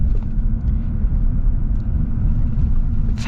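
Inside a 2024 GMC Sierra HD pickup driving over small road bumps, a loud, steady low rumble runs throughout with faint thumps from the suspension.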